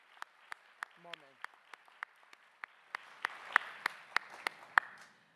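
Graduates at a university stole ceremony receive a round of applause: sparse, evenly spaced single claps at first, swelling into fuller, louder clapping from a small crowd near the end, with no talk over it.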